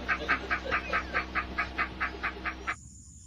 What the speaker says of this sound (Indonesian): ada burung koa tuh ya